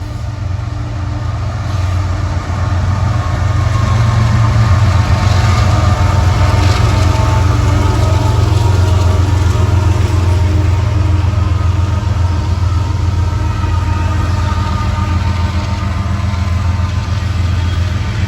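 A CSX freight train passes westbound through Kenova, West Virginia, a loud, steady low rumble of engines and rolling cars holding for the whole stretch, with no talk over it.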